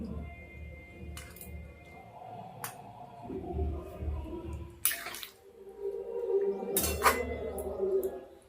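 Raw mango being stirred in a pot of water set to boil, with repeated metal spoon scrapes and clinks against the pot and soft watery sloshing, close and moderately loud.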